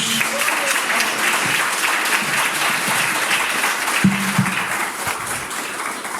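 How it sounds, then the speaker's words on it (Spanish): A church congregation gives a big round of applause to Jesus, sustained dense clapping with a few louder individual claps and faint voices mixed in. "Un aplauso grande a Jesús"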